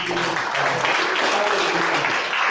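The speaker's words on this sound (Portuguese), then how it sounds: "Só os renascidos podem aplaudir." A church congregation applauds in a dense, steady wash of clapping that stays loud and even throughout, with voices mixed in.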